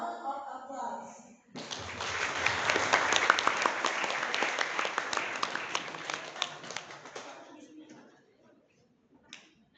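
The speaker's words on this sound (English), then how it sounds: "Let's give him a round of applause" An audience breaks into sustained applause for a speaker taking the stage, the clapping swelling after a brief spoken line, holding dense and loud for several seconds, then fading out into quiet.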